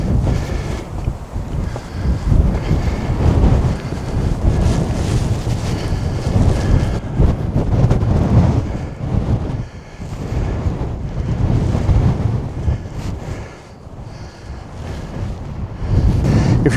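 Strong coastal wind at the Cliffs of Moher in Ireland roars continuously into the microphone, loud, low buffeting gusts that swell and dip, with a faint ocean wash beneath and no talking.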